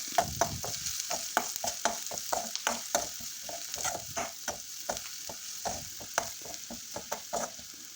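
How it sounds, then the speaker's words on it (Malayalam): A spoon scrapes rhythmically through a sizzling chickpea curry base in a pan as turmeric and chili powder are mixed in, regular knocks and scrapes over a continuous frying hiss, close and quiet, no talking. "ഒരു കാൽ ടീസ്പൂൺ മഞ്ഞൾപ്പൊടി ഒരു അര ടീസ്പൂൺ മുളക് പൊടി എന്നിവ ചേർത്ത് നല്ലപോലെ മിക്സാക്കാം"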